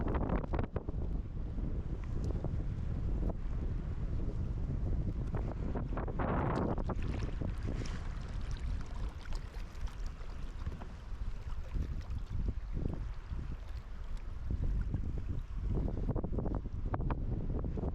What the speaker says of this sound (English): I apologize it's so windy